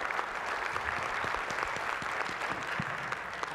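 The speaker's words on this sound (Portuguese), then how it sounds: "pido, então, um aplauso para Eduardo." An audience at a technical forum applauds a presenter, a steady wash of many hands clapping at moderate distance, even and sustained without speech.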